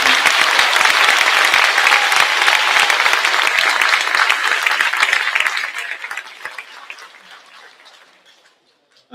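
A school crowd's round of applause for award winners at a WLMS award ceremony, loud sustained clapping from many hands that gradually thins and fades to near silence.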